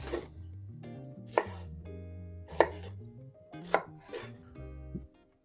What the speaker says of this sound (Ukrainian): Нарізаємо цибулю на частинки.